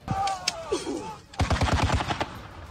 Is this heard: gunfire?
yes